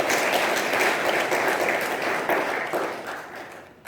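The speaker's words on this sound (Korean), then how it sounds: "우리 하나님께 영광의 박수를 한번 올려드리도록 하겠습니다." A church congregation at an Easter joint service applauds, dense and loud, with many hands clapping together before it thins out and fades at the end.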